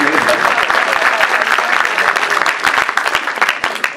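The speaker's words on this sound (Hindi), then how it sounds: "चलिए एक बार तालियां बजा के विनीत पांडे जी को आगे।" An audience at a Hindi humorous poetry recital breaks into loud, sustained applause, dense clapping running throughout, with a voice briefly heard over it.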